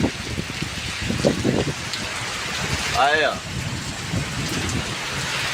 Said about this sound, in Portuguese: Chovendo pra caralho.